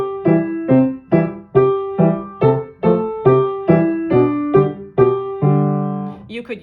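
Piano boom chuck accompaniment to Up on the Housetop with inverted left-hand chords, a steady alternating bass note and chord pattern of about a dozen even strikes, close and clear, ending on a held chord.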